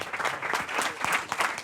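Audience applause at a preliminary sextech pitch event, a steady dense burst of many hands clapping at close range, with no talking over it.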